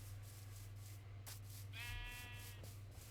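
A sheep in Minecraft gives a single short bleat over a steady low hum, fairly faint against the background.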